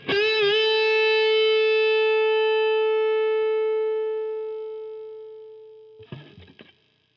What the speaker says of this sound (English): So we're bending from the 7th to the root.